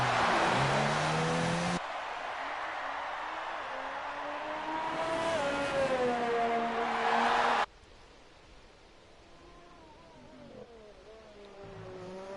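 A racing car in a video game heads out onto a track at the German round, its engine whining through rising and falling gear tones, loud and close and then suddenly quieter after a cut.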